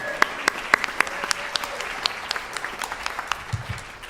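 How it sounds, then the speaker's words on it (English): An audience at a smoke-free housing summit applauds, a dense steady patter of clapping with some sharper individual claps near the front, fading toward the end. "Let's give an applause."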